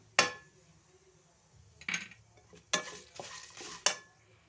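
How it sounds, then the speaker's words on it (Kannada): Ingredients and green chillies roast in a pan for an amaranth greens chutney, with a few distinct stirring scrapes and clinks spaced out over a low background sizzle. "ಎರಡನ್ನೂ ಚೆನ್ನಾಗಿ ಫ್ರೈ ಮಾಡಿಕೊಂಡು ಸ್ವಲ್ಪ ಹೊತ್ತಾದಮೇಲೆ ಮೆಣಸಿನ್ಕಾಯಿ ಹಾಕಿ ಮೂರನ್ನು ಚೆನ್ನಾಗಿ ಹುರ್ಕೊಬೇಕು"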